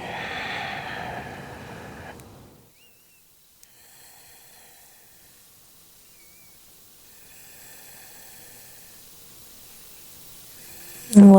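Deep yoga breathing during a slow strength-and-flexibility flow, in a lying twist: one long, close, breathy exhale fades out over the first two seconds, followed by near silence with faint background tones, then a sudden loud burst at the very end.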